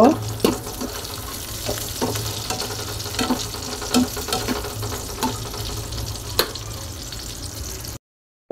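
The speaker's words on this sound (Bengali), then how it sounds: "রসুন পেঁয়াজ কুচিটা দিয়ে তারপরে আমি হালকা একটু ভেজে নিব।" Chopped onion and garlic fry lightly in a pan for chicken soup with a soft, steady sizzle. Regular clicks of stirring sound close by, and the clip ends with a short cut to silence.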